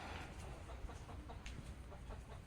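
Chickens cluck softly around a rural home yard, a few scattered short calls over a steady low background hum, fairly faint and distant, with no talking.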